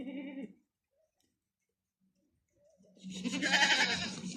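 Long-eared goats on a farm in Saudi Arabia bleat nearby: one short bleat, a pause of near silence, then a louder, longer bleat.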